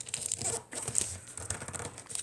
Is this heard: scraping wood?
no